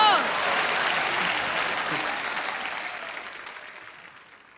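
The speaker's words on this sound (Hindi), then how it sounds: "ठोको ताली।" Studio audience applause on The Kapil Sharma Show, a loud burst of clapping right at the start that gradually fades away over several seconds.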